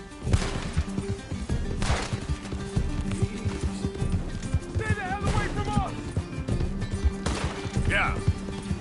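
Hooves clatter in a fast galloping rhythm amid Red Dead Redemption 2 game sound effects and music, with a horse whinnying once and people talking over it.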